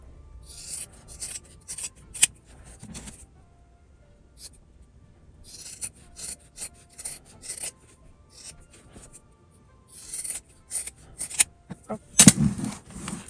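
Scissors trim around leftover fabric for a slim wallet, giving a series of short, close snipping and rustling sounds that come in irregular bursts.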